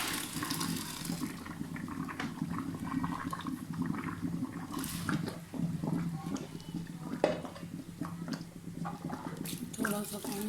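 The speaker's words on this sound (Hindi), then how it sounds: "अब ये मैंने एक छलनी रख दिया, इसमें हमने जो ये दाल बॉईल की थी इसका हम पानी रिमूव कर लेंगे।" Boiled white mash dal drained through a sieve, water pouring and splashing steadily for several seconds with a few clinks, close and moderately loud, in a highway truck hotel style kitchen.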